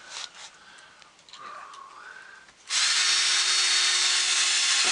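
A power drill drives screws into wood wall framing during structural wall work, starting after a few seconds of quieter movement and then running as a loud, steady whir close by.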